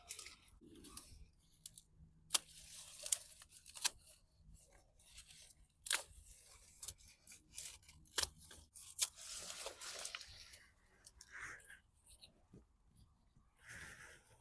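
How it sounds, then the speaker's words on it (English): Garden shears snip rushes low at the plant base during a wild harvest for weaving, giving several short, crisp cuts and rustles scattered among quiet pauses, close to the listener. "So I'm just going to take my shears, go towards the base of the plant,"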